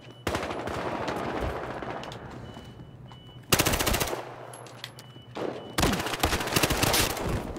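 Bursts of automatic gunfire from Battlefield Hardline's bank heist mode, loud and close, with three sustained volleys separated by short pauses and a low background hum.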